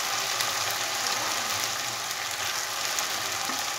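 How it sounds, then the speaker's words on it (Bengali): Mutton liver frying in a hot pan, a steady, loud sizzle that holds evenly throughout with no talking. "এইবারে মাটনের মেটে 250 গ্রাম আমি ধুয়ে পরিষ্কার করে রেখেছি, মেটেগুলো আমি দিয়ে দেব।"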